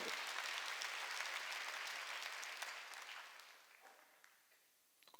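A church congregation applauds during a worship service: a steady wash of many hands clapping at moderate volume that tapers off and fades to silence near the end.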